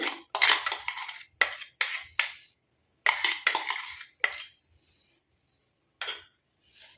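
Ground herbal paste containing fenugreek is scraped into an iron pan with a metal spoon, giving a run of close, sharp clinks and scrapes in bursts separated by short pauses.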